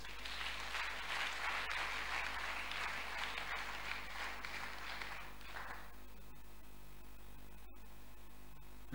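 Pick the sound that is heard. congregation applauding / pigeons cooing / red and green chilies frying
congregation applauding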